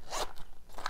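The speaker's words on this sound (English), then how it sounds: "Darling little sparkly zipper binder, A6 size." Quick zipper pulls on a small sparkly A6 zipper binder, two short close rasping strokes with a brief pause between them.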